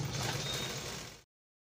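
A sewing machine stitching a kameez hem, running in one short, steady mechanical whirr with rapid needle chatter for just over a second before stopping abruptly into silence.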